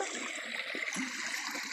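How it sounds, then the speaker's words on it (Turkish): Stream water flowing along a village walking path, a steady broadband rush and trickle heard close and continuous, with no voices over it. "Burada bir dere suyu akıyor."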